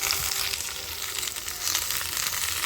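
Vegetables, thin drumstick stalks and raw tomato fry together in a pan, giving a steady, loud, close hiss and crackle with no pauses and no talking.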